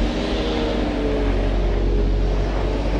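Skid steer loader engine running steadily at close range, a continuous loud low rumble with broadband mechanical roar and no breaks, no voices over it.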